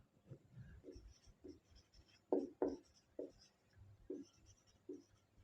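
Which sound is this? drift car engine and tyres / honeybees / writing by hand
writing by hand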